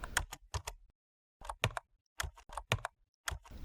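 Keystrokes on a computer keyboard come in quick bursts of several clicks, separated by short pauses, close and crisp with no talking.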